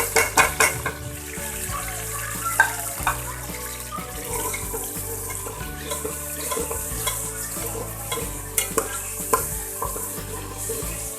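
Ginger paste and tomato paste go into a frying pan for a zucchini lentil dal, giving a wet, bubbling sizzle with repeated spoon clinks and stirring taps throughout, close and moderately loud.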